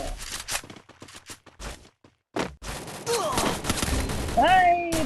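Counter-Strike gunfire with a run of sharp, rapid shots at the start, a short pause, then more bursts under continuous game noise and rising electronic tones, with a player's voice talking over it.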